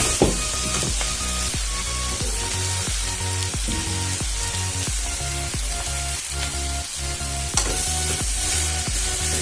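Taro pieces sizzle loudly in hot oil while a spatula scrapes and stirs the pan in regular strokes, with no one speaking.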